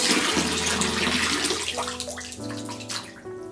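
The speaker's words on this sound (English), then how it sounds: "now I'm going to add my moon charged water to the tub" Water pours from a container into a filled bathtub, a loud, close, splashing rush that gradually thins into lighter trickling and gurgling.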